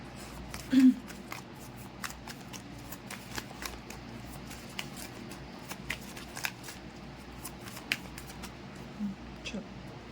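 Tarot cards shuffled by hand at close range, a run of soft papery riffles and flicks with a couple of sharper snaps, quiet and steady with no talk over it.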